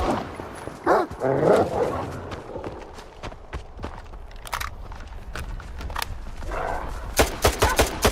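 A pack of dogs in the shooter game STALKER 2 barks in sharp, scattered bursts, mixed with thumping footsteps and a few loud cracks near the end; no voices.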